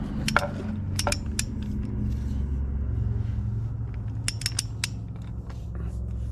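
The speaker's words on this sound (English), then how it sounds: "begin to pull these 1/2 inch bolts down to 85 foot-pounds" Ratchet wrench tightening half-inch oil pan bolts on a John Deere 4840 tractor during an engine overhaul. Two short bursts of crisp clicking, separated by a pause, sound over a steady low rumble.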